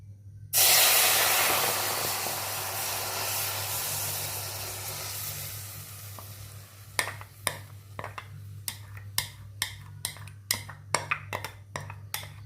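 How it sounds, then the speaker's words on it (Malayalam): Hot melted ghee poured into a heated Hindalium wok sets off a loud, steady hiss that slowly fades, then a run of sharp ticking and crackling pops close by, with no talking. "ഇനിയിപ്പോൾ നമുക്ക് ചൂടായ ഹിൻഡാലിയം ചീനച്ചട്ടിയിലേക്ക് അങ്ങ് ഒഴിച്ചു കൊടുക്കാം"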